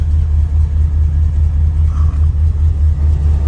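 A 1968 Ford Galaxie convertible idles in a tin shed, its engine a loud, steady low rumble with a slightly uneven, choky pulse throughout.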